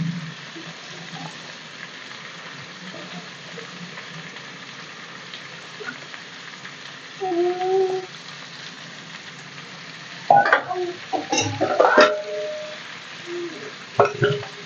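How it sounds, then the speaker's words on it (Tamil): Vegetables stir-fried in a pan for an onion and capsicum masala gravy, with a faint steady sizzle underneath and a few sharp spoon scrapes and clinks near the end. "காய் போட்டு நல்லா கலரி விட்டாச்சுமா"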